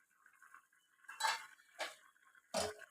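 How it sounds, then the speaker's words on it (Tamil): A cooking pot lid is lifted to check a simmering masala, giving three soft metallic clinks spaced about half a second to a second apart over a faint sizzle, heard close and quiet. "ஓப்பன் பண்ணி பார்த்துடலாம்."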